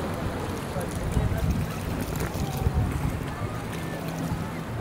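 A boat out on open water beside a jetty, with wind buffeting the microphone; a steady, rumbling wash of water and wind noise runs throughout with small surges.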